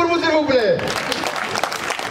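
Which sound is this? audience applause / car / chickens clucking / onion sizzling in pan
audience applause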